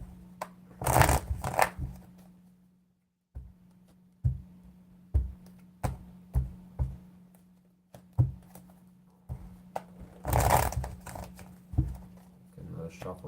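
Tarot cards are shuffled in repeated bursts of crisp riffling and soft slaps, some long and some short, with pauses between them.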